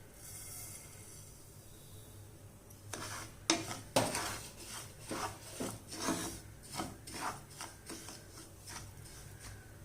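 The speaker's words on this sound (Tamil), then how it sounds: "இப்போ இந்த ரவையை வறுத்துக்கலாம்." Samba wheat rava is dry-roasted in ghee in a pan, with a spoon scraping and stirring in close, uneven rasping strokes that grow busier after a quiet start.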